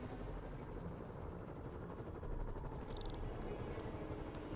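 Steady whirring helicopter rotor noise in Marvel's Spider-Man, constant and fairly loud, with a faint high beep near the end.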